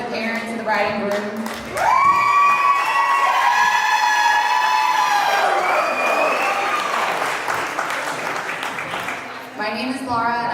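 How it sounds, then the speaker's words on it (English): Wedding reception guests clapping and whooping for the bride, groom and parents, loud cheers and a long shrill whistle over dense applause, with voices around. "Can I get a round of applause for the parents and the bride and groom?"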